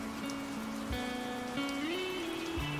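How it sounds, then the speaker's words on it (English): Steady rain falls outside an open window, a continuous close patter of drops on surfaces with a soft, even hiss and no voices. "when it rained, I'd leave the window open just to hear it"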